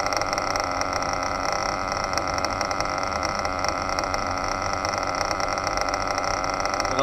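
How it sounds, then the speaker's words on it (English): A small model engine idles steadily between fuel tanks during break-in, a continuous buzzing drone at an even pitch that holds the whole time without revving, close and fairly loud. "I'll let it idle between each tank."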